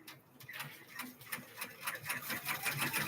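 A machine embroidery unit stitching cream-coloured thread into a bag design, giving a steady fast clattering needle rhythm with rising and falling bursts, fairly close and alone.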